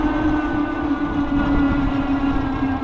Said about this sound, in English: as you speed up, you hear the motor a little bit more